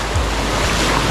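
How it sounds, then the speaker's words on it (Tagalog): Ocean waves break and wash in shallow surf where people are swimming. A loud, continuous roar of churning water comes close to the microphone, with gusts of wind noise and no talking. "May alon!"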